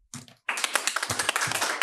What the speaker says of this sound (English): People clapped.